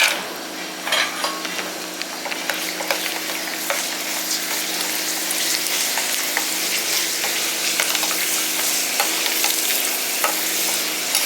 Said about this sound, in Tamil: நம்ம இப்போ அப்பளத்தை வறுத்துக்கலாம்.